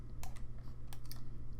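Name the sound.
pressing delete on a computer keyboard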